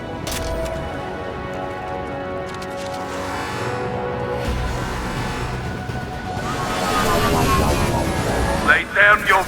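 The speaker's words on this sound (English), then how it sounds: "Gunship's back and with full shield." A gunship in the video game Mass Effect 2 flies overhead with a droning, whining engine roar that builds in loudness, ending in a few rumbling pulses.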